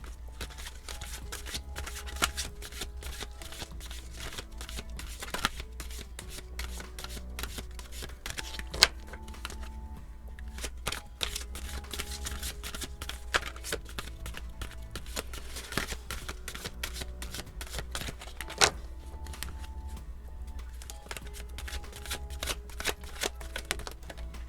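Tarot and oracle cards being shuffled continuously, a dense riffling and flapping texture with occasional sharper snaps, close up and with no voice over it.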